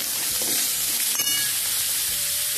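Green chillies and grated carrot fry in a hot pan for soya chilli manchurian, giving a close, steady hiss of sizzling with a brief scrape of stirring midway.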